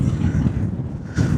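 Gusty wind buffeting a microphone on a hilltop walk around Shining Tor between Macclesfield and Buxton, a heavy low rumble that dips briefly and then surges back, with no voices.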